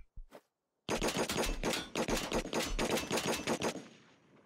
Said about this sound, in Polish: Strzelają się.